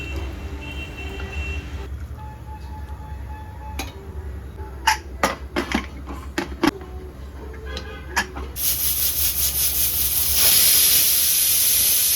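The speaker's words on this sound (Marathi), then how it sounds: "कुकरला आपल्याला तीन ते चार शिट्ट्या लावून घ्यायच्या आहेत" A sharp hiss of steam bursts from a pressure cooker whistle near the end, loud and continuous, after a few clanks and clicks over a low background hum, while cooking mutton.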